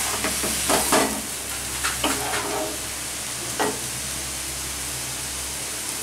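Ash gourd (chal kumro) pieces stirred in a pan for a Bengali vegetarian dish, with soft scraping strokes in short bursts over a steady low sizzle, close and moderately loud.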